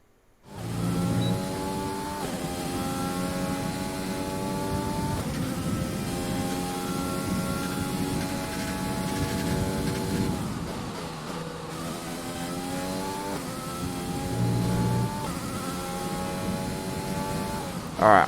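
F1 car engine on a flying qualifying lap at the British Grand Prix in F1 2020, a high-pitched screaming whine climbing through repeated gear upshifts, dipping on braking, steady and close throughout.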